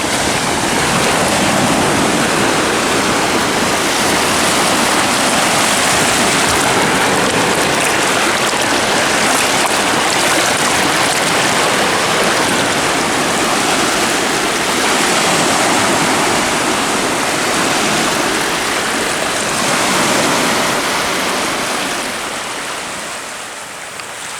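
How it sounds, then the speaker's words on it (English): Boat wash rolls onto the River Thames foreshore as a continuous, loud rushing and splashing of waves up close, easing slightly at the end. "Ooh, here comes the wash."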